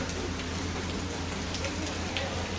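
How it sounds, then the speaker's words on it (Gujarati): Steady rain falls at Uparkot fort in Junagadh, a constant even hiss of drops on surfaces, close and unbroken with no talk. "ઘણા વરસાદ ચાલુ છે બધા રેણકોટ પહેરી પહેરીને આવે છે"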